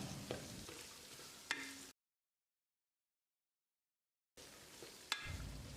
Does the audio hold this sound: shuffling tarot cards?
no